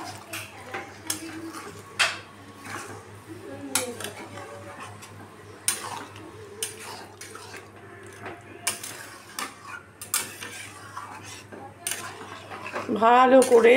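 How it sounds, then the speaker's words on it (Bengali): Lentils being stirred into spices in a cooking pan for an egg chicken tarka, with a spoon scraping and clinking against the metal in irregular taps over a low hum, and a brief spoken remark. "মশলাটার সাথে ডালটাকে পুরো মিশিয়ে দিলাম"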